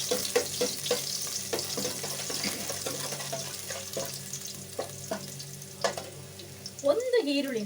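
Seven or eight cloves of finely chopped garlic sizzle and spit in hot oil, with steady crackling frying throughout and the scrape of stirring. A louder splash-like burst comes near the end.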